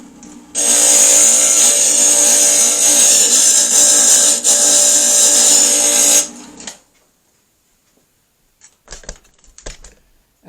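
A stained glass grinder works a glass piece in one loud, steady, continuous whir lasting about six seconds, then stops; a few faint clicks and taps from handling the glass follow.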